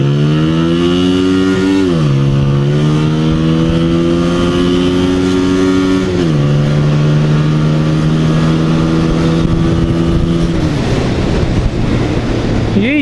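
A Honda motorcycle engine revs hard and climbs through several gear shifts, its pitch rising, dropping briefly at each shift, then rising again, loud and close, with road and wind noise throughout.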